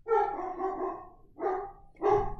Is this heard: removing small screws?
no